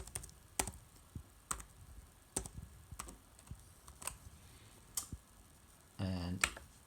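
Light, sparse keystrokes are heard as a password goes in on a computer keyboard, with quiet irregular clicks at close range over a soft background hiss, then a short burst of faint noise near the end.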